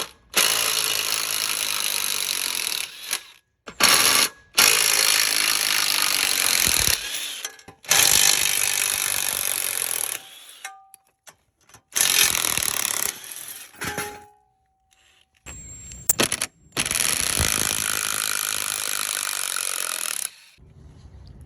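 Power tools rattle and grind in long loud bursts while a tricycle is taken apart to become a trailer, the runs separated by short silences and brief metallic clicks, all close up with no talk.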